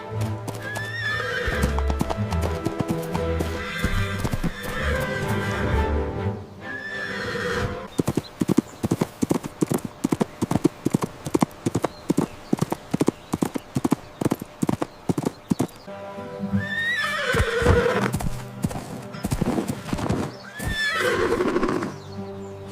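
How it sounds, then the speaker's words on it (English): Cartoon horse sound effects on a farm: steady, fairly loud hoof clip-clops in a regular rhythm through the middle, with whinnying neighs before and after, set against background music. "I hear a horse neighing."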